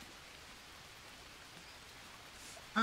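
Steady rain in the jungle survival video game Green Hell, a faint, even hiss of falling drops throughout, cut off by a louder sound at the very end.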